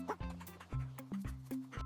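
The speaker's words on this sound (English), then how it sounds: "D is for dog, woof, woof, woof." Cartoon-style dog barks sung into a children's alphabet song about animals, a short run of bouncy woofs repeated in time over cheerful music.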